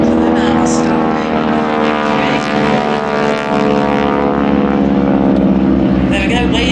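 Propeller aircraft of a wingwalking display team fly slowly overhead at an air festival, their engines giving a loud, steady droning hum throughout while someone talks over it.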